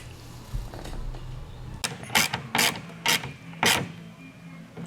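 A 10mm socket ratchet tightens bolts while a mounting plate is fitted on a 2020-2022 Ford Mustang Shelby GT500, giving about five close, loud bursts of rapid clicking in quick succession.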